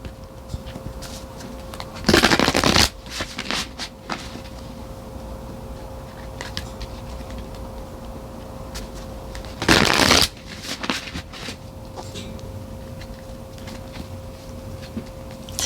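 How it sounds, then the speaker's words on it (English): Tarot cards being shuffled close by, two distinct bursts of riffling cards separated by quieter handling and soft tapping of the deck, with a faint steady hum underneath. "now I'm just pulling some cards here from the tarot"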